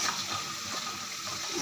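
Water splashing into a cooking pot while a Bengali home dish is prepared, a brief, soft gushing pour heard close and on its own.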